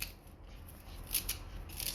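Coriander stalks cut freely by hand for a kofta curry, giving faint, soft snipping and cutting sounds, close and quiet, with a few slightly crisper cuts partway through.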